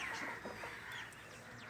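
A rooster on a poultry farm in Jaranwala, Pakistan, gives short faint clucks and chirps against a fairly noisy outdoor background, heard from a distance with no speech.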